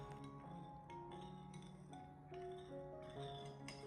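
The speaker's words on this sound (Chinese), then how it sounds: "把料汁给它搅拌均匀" A spoon stirs a sauce mixture of seasoning, sugar, cornstarch and water in a bowl, giving repeated light clinks against the bowl in a steady irregular rhythm, close and alone.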